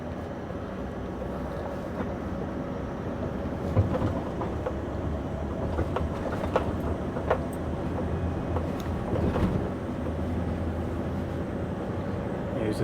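Scania V8 truck engine climbing a hill on narrow country roads, a steady low rumbling drone heard from inside the cab, with faint rattles and clunks throughout.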